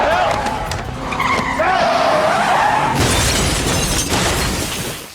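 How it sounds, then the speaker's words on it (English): A car crashes while skidding in a dramatic TV drama scene: tires squeal and screech, then a loud impact with shattering and crunching debris, intense and close. "True to her self-preservative nature, Catherine crashes the car to escape."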